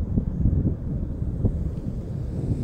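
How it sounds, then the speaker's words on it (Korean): Cold wind blowing across a small snowy hill near Chiaksan mountain, a steady low rushing roar buffeting the microphone throughout, with no voices. "작은 동산에서 불어오는 바람도 차갑게 느껴지는데"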